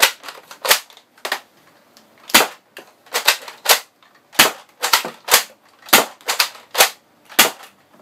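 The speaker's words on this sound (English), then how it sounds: "Quick firing demo for you guys to take a look." A 3D-printed Nerf Kronos blaster with a direct plunger system fires foam darts in about a dozen sharp, snappy pops at an uneven quick pace, close and loud, with quiet gaps between shots.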